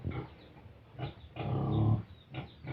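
Pigs on a small farm grunt in a few close, rough bursts, with a longer, louder grunting stretch in the middle and short pauses between.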